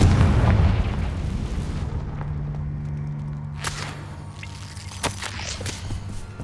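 A Confringo fire spell explodes in the video game Hogwarts Legacy. One loud, deep boom opens the sound and rolls away into a long, fading rumble, with a few faint game effects popping afterward.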